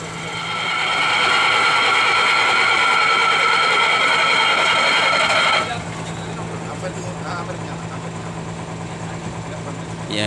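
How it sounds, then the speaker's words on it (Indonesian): A bus engine, just back from a multi-day overhaul, runs loud and steady with a rough, buzzing roar. Partway through it drops to a lower, quieter idle hum. "Ya ini proses penyalaan mesin ya. Setelah beberapa hari overhaul."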